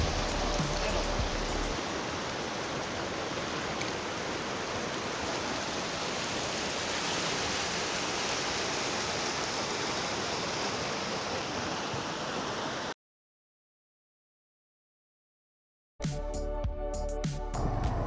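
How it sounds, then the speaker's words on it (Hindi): Water rushing over stones in a mountain valley stream, a steady loud broadband roar that holds without a break, then cuts out and returns briefly at the end. "ये इन पत्थरों में से आने वाले पानी की आवाज़ है"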